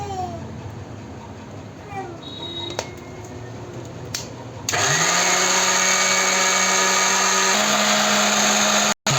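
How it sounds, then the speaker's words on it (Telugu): A mixer grinder whirs to a loud, steady roar partway through, grinding Anganwadi Balamrutham with sugar and two cardamom pods into powder for a cake batter. Quieter kitchen sounds and soft handling come before it, and the motor runs unbroken to the end. "ఇప్పుడు దీన్ని మిక్సీ పట్టుకుందాం."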